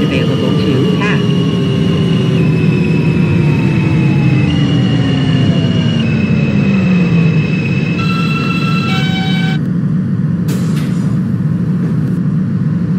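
An R160 subway train in the OpenBVE simulator runs as a Queensbound F local, with loud, steady rumbling rail noise and a slowly falling motor whine. Chiming door tones sound near the end, with an announcer's voice heard over the train.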